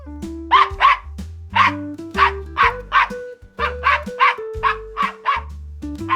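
A puppy barks repeatedly in quick bursts, sharp yipping barks close and loud, with brief pauses between groups and a steady low tone underneath.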